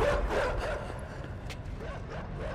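Dogs bark and yip in the side-scrolling game Inside, a few quick barks over a steady, dense background rumble.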